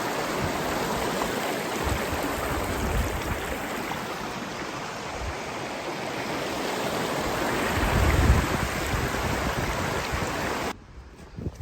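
A river running high past stepping stones out in the fields rushes and churns in a steady, loud, continuous roar from close by, with no voices, until it cuts out abruptly near the end.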